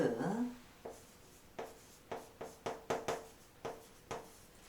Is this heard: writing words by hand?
yes